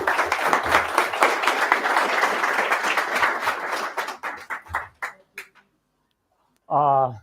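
Applause breaks out for a speaker at a PyMunich tech meetup, a dense crowd clapping that thins into scattered individual claps and stops, followed by a brief voice.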